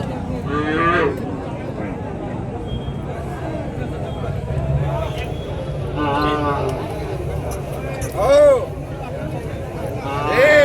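Plough bulls at a busy livestock market moo loudly several times, deep drawn-out calls standing out over a steady crowd murmur and someone talking nearby.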